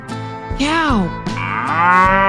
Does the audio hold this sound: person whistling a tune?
no